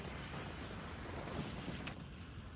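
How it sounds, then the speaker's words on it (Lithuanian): Strong wind roars steadily across a campsite in Scotland, buffeting the microphone with a constant, loud broadband rush and no voices. "Vėjas pučia nejuokingas."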